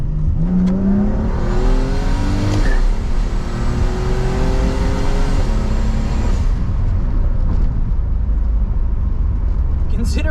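A turbocharged RB30-powered Nissan R31 Skyline accelerating hard from inside the cabin, its loud engine note climbing steeply through a gear, dropping at a shift and climbing again, with a voice speaking briefly over it.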